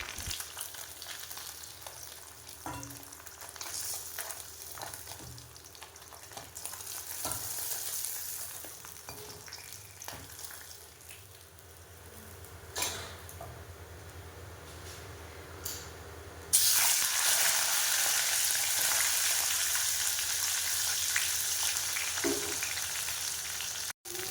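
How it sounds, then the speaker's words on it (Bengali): Pieces of katla fish fry in hot oil with a constant sizzling hiss. The sound grows sharply louder and brighter partway through and then holds steady, with no talking. "মাছগুলো ভাজা ভাজা হয়ে এসছে এবার আমি নামিয়ে নেব মাছগুলো"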